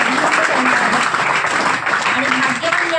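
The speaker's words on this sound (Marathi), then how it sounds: "पुन्हा एकदा जोरदार टाळ्या वाजवून सरांचं" Loud, sustained applause from the audience at a career-guidance event in Dapoli honours the chief speaker, with a voice speaking over the clapping.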